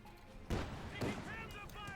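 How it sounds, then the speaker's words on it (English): Browning automatic rifle fire in Company of Heroes 2 sounds as two short, distant bursts under faint battle noise, with a thin whistling tone drifting in near the end. "You got a little Browning automatic rifle."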